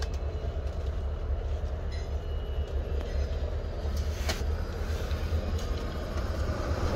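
Steady low rumble of a CN train accelerating, a continuous broad roar with a few faint clanks and a brief high squeal.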